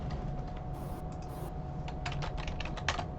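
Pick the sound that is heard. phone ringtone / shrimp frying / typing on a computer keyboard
typing on a computer keyboard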